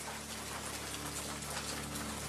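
Steady rain falls in Madagascar during the rainy season, a soft, even hiss of drops that holds without pause or change through a short stretch, with no voices.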